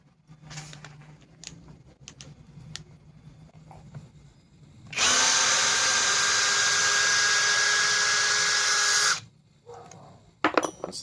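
A Kreg 4-amp drill/driver backing out fasteners: after quiet handling clatter, one loud, steady whirring run of about four seconds, then it cuts off, followed by a few light knocks.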